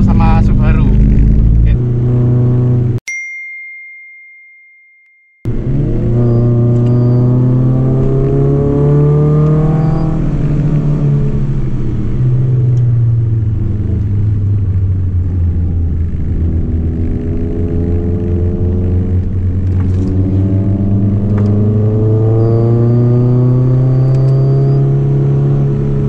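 A Toyota FT86 and a Subaru climb the steep, extreme Cangar hill, with a loud engine note rising and falling in sweeping revs close by, broken by a brief gap.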